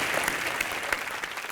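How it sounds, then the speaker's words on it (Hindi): A studio audience at a comedy show claps for an actress, a dense, even burst of applause lasting a moment. "जोरदार तालियां आ जाए."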